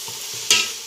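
Pepper is stirred into egg fried rice in a pan: a brief scrape of a spatula through the rice, close and loud over a soft frying sizzle, with no speech.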